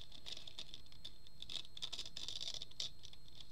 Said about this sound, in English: Do you like to tear paper?